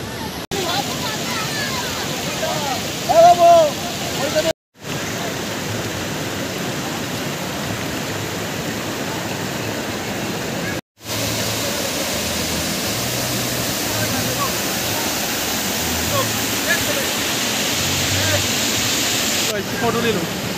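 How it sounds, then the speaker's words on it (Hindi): Bhatinda Falls waterfall at Tetengabad near Dhanbad gives a steady, full rushing roar that runs unbroken for the whole stretch apart from two very brief cuts. "ये है झरना"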